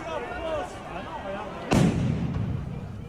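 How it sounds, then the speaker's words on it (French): A single loud, booming blast cuts through crowd noise and voices, followed by a rumbling echo that lingers for over a second. "C'est quoi ce coup de canon là?"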